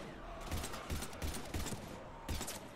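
Rapid gunfire in the video game Mass Effect 3 against zombies, a dense, loud burst of overlapping shots with repeated punchy reports throughout.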